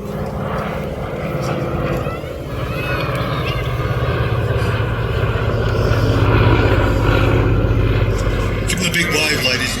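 A propeller-driven three-seat torpedo bomber with wingtip fuel tanks flies past during an air festival display, its engine drone loud and steady beneath a commentator speaking over the public address.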